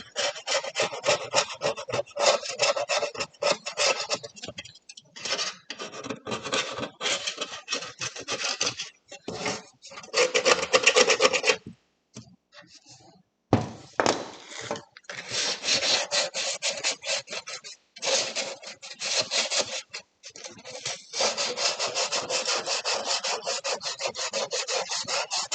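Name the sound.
scraping and sanding out old armour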